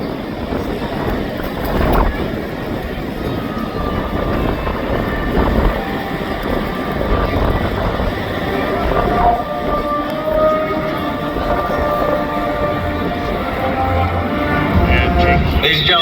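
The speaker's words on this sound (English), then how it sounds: "Ladies and gentlemen, give it up for your legacy formation, C-47 and C-17." A C-47 and a C-17 fly past together in a tight legacy formation at an air show, giving a loud, steady engine roar over crowd noise that holds for the whole stretch.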